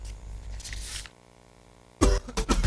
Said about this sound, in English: this kind cough na serious matter